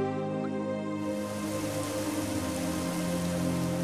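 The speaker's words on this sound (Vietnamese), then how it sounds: "Ôi, trời đang mưa mà." Steady rain falls in an animated cartoon, a dense, even hiss that runs unbroken throughout with no voices over it.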